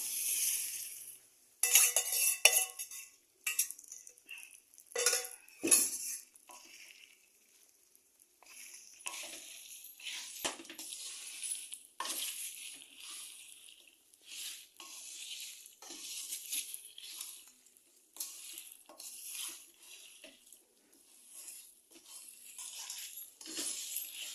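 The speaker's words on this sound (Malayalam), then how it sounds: "ഇനി നമ്മൾ വറുത്ത് വെച്ചിരിക്കുന്ന ബീഫ് ഇടുവാണ്." Fried beef being tipped into a pan for beef pickle, with scraping, stirring clatter and light sizzling from the pan, close and moderately quiet over about twenty seconds.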